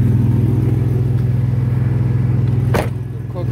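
A 2000 Chevrolet S10 pickup idles with a loud, steady low rumble, rising slightly in a brief rev and then settling back down. A short noise breaks in near the end.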